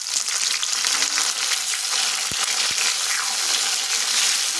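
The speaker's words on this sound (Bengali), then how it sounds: "টমেটোটা ভেজে নিতে হবে" Chopped tomato fries with boiled potatoes in a hot pan, a dense continuous sizzle close by with a couple of soft utensil taps partway through.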